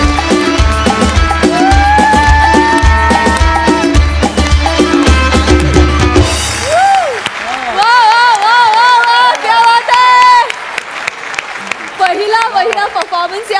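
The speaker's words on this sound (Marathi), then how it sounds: "मस्त जोरदार टाळ्या" A studio audience on a Marathi comedy show claps and cheers over loud stage music. The crowd noise then gives way to voices speaking on stage.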